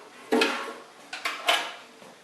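A metal engine oil pan being handled and set down in place during an engine build, with a few sharp clanks and rattles: one near knock, then a quick cluster of three softer metallic hits.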